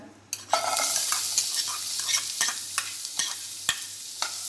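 Finely chopped onion fries in about two spoons of hot oil in a pan, a steady close sizzle broken by repeated scraping stirs of a spoon against the pan, with no talk.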